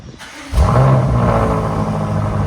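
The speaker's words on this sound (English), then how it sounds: "2020 BMW M5 with a resonator delete" A 2020 BMW M5 twin-turbo 4.4L V8 with a resonator delete, heard from inside the car, revs up sharply from idle into a loud, sustained deep exhaust roar that holds steady without any talk.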